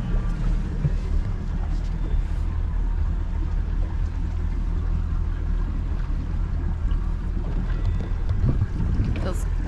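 Strong wind buffets the microphone aboard a boat on rough Lake Texoma, with steady broadband rumble and water noise filling the whole stretch at a loud, constant level.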